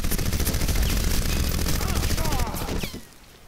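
Rapid automatic weapon fire in the video game Crysis, a dense, loud continuous burst of shots lasting about three seconds before cutting off into a brief tail.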